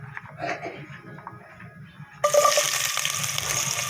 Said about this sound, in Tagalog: Magigisa na tayo mga kabakyard.